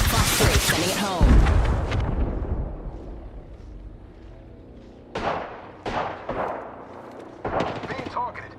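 Missile launches in a combat video game: a dense burst of loud explosive whooshes and booms at the start, then after a lull three or four sharp, roaring blasts in quick succession, each decaying quickly, with faint voices mixed in.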